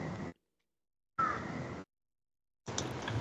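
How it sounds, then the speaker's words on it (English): Crows caw at dusk outdoors in three separate, fairly faint bursts with quiet gaps between them. "Those birds are freaking out."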